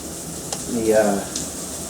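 Chicken nuggets crisping in a pan of hot oil give a low, steady sizzle and frying hiss. A brief swell of voice rises over it midway through.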